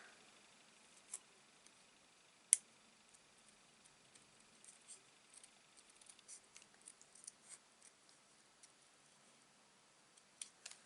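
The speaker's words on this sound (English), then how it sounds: "It's easier just to snip it right off." Scissors snip off the edge of a handmade stamped card, a few faint, sharp cuts and small ticks scattered through an otherwise quiet stretch, close by.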